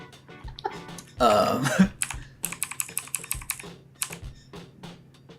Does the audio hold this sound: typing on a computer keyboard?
yes